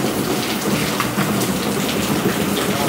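Heavy rain pours steadily on a surface outdoors during a Javanese tingkeban ceremony, a dense, continuous hiss that stays loud and unbroken throughout with no voices over it.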